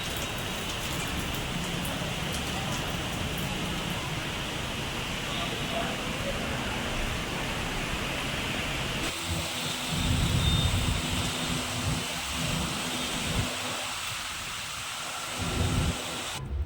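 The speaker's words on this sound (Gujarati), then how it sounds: "બહુ જ ફાસ્ટ વરસાદ આવે છે" Heavy rain pours down in Ahmedabad in a constant dense hiss, with low thudding drops and gusts joining in during the second half.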